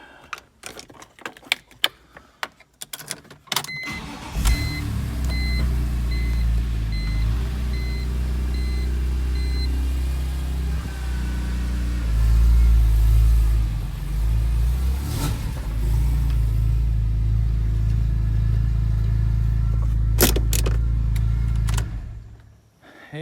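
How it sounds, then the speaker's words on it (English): BMW E46 M3 with an SMG gearbox starting and backing out of a garage, a few clicks and clunks before the engine catches, then a deep idling rumble with a brief rev, close by and without speech. "So I'm gonna back it out of the garage real quick."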